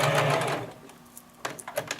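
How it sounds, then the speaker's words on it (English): A sewing machine stitching a small craft seam on a stuffed toy's arm or leg, a brief close run that fades, followed by a few soft clicks and handling sounds. "Sewing a small craft seam, stopping and pivoting whenever necessary."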